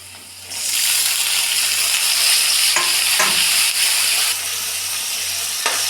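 Washed lentils tipped into a hot pan with turmeric set off a sudden loud, steady sizzle that fills the space, with a few soft scrapes of stirring partway through as the hiss eases slightly near the end.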